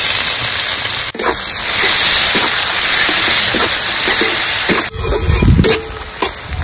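Chopped onions hit hot oil with bay leaves, whole cumin and whole garam masala for a village-style duck curry, giving a loud, steady sizzle with a few sharp stirring scrapes and a brief burst of harder frying near the end.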